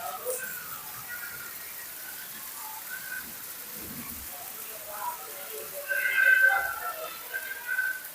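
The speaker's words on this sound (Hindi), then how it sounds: "आप देखें कितनी तेज़ बारिश है।" Steady heavy rain hisses across the whole clip with scattered drips on a street in Lahore, while a voice talks faintly over it.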